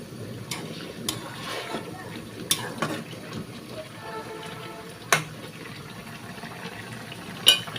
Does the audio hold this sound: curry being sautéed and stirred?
yes